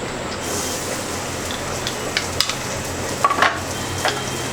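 Chopped onions and oil frying in a pan for a drumstick and prawn curry, heard as a continuous close sizzle with a few sharp utensil clinks and scrapes in the second half.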